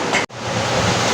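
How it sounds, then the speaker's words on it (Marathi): A loud, continuous roar of heavy outdoor rain fills the space, cut by a single abrupt silent gap early on, then pouring on evenly without any voice. "तुम्हाला आवाज येत असेल पावसाचा आणि माझा आवाज कमी येत असेल"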